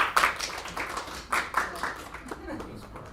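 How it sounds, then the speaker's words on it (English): Light, polite applause from a few people at a school board of education meeting, sparse scattered claps lasting a few seconds, with voices talking over them. "Polite golf applause."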